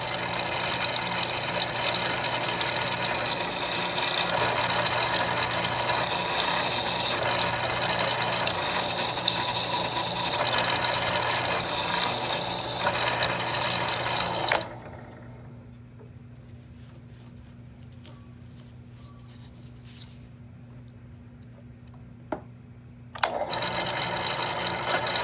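A drill bores into the rear quarter panel of a 1966 Ford Mustang, a close, steady mechanical whir running for about fifteen seconds, stopping for a quiet stretch, then briefly starting up again.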